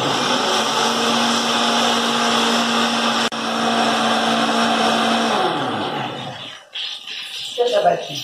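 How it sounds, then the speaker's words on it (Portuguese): A blender whirs loudly and steadily for several seconds mixing a manjar-based ice cream dessert, then winds down and stops, leaving quieter clatter and movement. "Agora eu vou bater."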